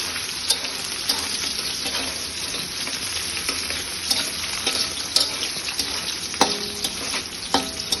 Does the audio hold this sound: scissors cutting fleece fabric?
no